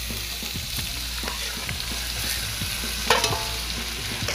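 Potatoes stirred in a pan of frying onions, curry leaves and black gram give a steady soft sizzle with scraping stirs throughout and a louder clatter near the end.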